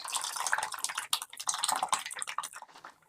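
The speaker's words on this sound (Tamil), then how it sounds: "இந்த ஸ்டேஜில் நம்ம புளி தண்ணி ஆட் பண்ணிக்கலாம்." Tamarind water pours and splashes steadily into a pot of sundakkai puli kuzhambu for a few seconds, a busy watery trickle with small drips and spatters, nearby and fairly quiet.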